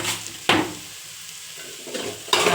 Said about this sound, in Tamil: உள்ளி போட்டு நல்லா வதக்கணும்